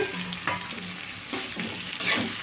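Ridge gourd pieces sizzle in a pan as they cook down for chutney, a soft steady frying hiss broken by three sharp scraping stirs of a spatula, all close by.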